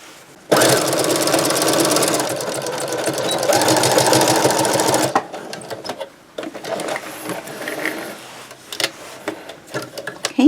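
Sewing machine stitching a straight seam on a fabric tote bag, a fast steady mechanical whir for about five seconds, then quieter handling clicks and rustles of cloth.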